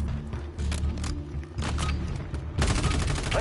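Rapid gunfire from Warzone rattles almost without pause, dense and loud, with heavier bursts near the end and no talk over it.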